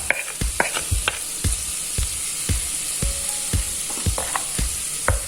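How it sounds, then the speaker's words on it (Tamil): A pan of mutton pepper thokku sizzles steadily while a spatula scrapes and stirs in regular strokes, close and alone with no talking. "ஒரு 5 நிமிஷம் நல்லா சுருள வதங்கிடணும்."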